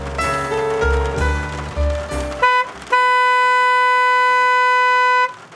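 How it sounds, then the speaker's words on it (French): A car horn sounds twice from close by, the first honk short and the second a longer, loud sustained blare that cuts off cleanly. "Deux coups de klaxon brisèrent net son élan."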